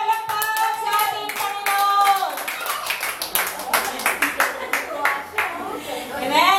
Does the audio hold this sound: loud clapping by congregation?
yes